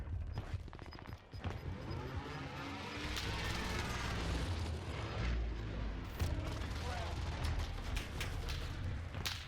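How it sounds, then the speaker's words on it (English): Airstrike explosions and rolling gunfire in the World War II shooter Warzone Pacific, a sustained, dense barrage of booms and bursts filling the whole stretch, moderately distant and continuous with sharper cracks near the end. "airstrike. Take cover."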